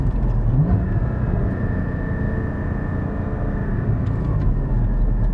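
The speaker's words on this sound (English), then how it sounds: "Now I'm going to go in a second without blipping." A Porsche Cayman GT4 engine drones steadily as it downshifts to second without a throttle blip, a loud, continuous in-cabin rumble with no speech.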